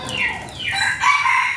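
A young cockerel, not yet fighting age, crows once near the microphone, its call rising into a long sustained note that lasts the full moment with no talk.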